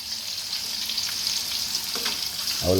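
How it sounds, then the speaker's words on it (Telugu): Whole spices frying in hot oil for veg pulao, a continuous close sizzle with occasional light scrapes and a brief clatter near the end. "ఇవన్నీ వేసేద్దాం. ఈ ఫస్ట్ వేసేస్తే మాడిపోతుందండి. ఇవి వేసేద్దాం. అవి ఫ్రై అయితే బాగుంటుంది."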